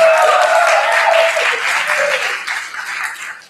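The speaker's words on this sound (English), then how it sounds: "let's just extend our applause and congratulations to the team for making this far." A crowd applauds at a debate tournament's grand finals in a large, spacious room, dense and loud clapping at first that gradually thins and fades out.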